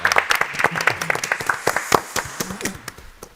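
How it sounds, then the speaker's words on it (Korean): A church congregation applauds after a ministry report, with sharp individual hand claps ringing out unevenly, tapering off over a few seconds as a voice briefly murmurs underneath. "우리 라이프 기빙 너무 수고하셨는데 우리 한번 박수 하시겠습니다."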